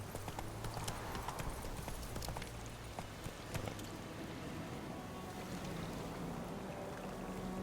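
Roach the horse's hooves in The Witcher video game, steady clip-clop trotting at a moderate distance under a low ambient hum, continuing evenly with no talk.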